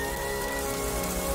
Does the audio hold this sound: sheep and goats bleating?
no